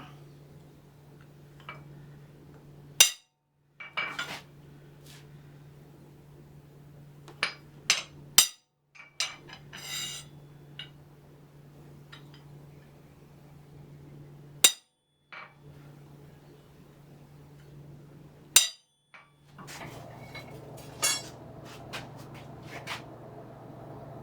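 Hammer blows driving a chisel cold into wrought iron to scribe lines for medieval-style andirons: sharp, isolated metallic strikes spaced a few seconds apart over a low, steady hum, with faint clinks and handling noise between.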